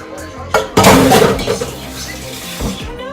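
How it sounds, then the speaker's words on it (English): Empty cans are rinsed in a kitchen sink for recycling, with close metallic clanks and knocks, a short burst of splashing clatter, then lighter clinks as the cans are handled. "I'm going to rinse all these cans out and put them in the recycle bin"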